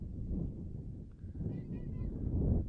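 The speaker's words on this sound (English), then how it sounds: "You can hear the wind again. It is another windy day here in Wichita." Low, blustery wind rumbles against the microphone at an outdoor girls' soccer match in Wichita, gusting unevenly throughout, with faint distant sounds mixed in.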